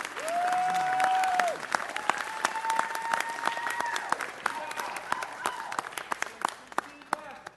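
Applause at a city council meeting, a room of hands clapping steadily and then thinning into scattered claps, with a voice speaking over the start.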